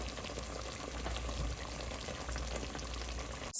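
Bell peppers hit a hot pot of Puerto Rican-style chicken stew (pollo guisado), giving a steady close sizzle and frying hiss that runs evenly throughout, with a brief louder clatter at the very end.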